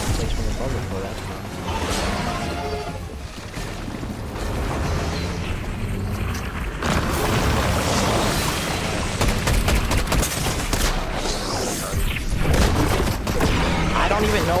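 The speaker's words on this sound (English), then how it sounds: "I don't even know where I'm getting shot from." Gunfire in Fortnite, rapid volleys of shots and booming impacts running almost continuously with a player talking over them.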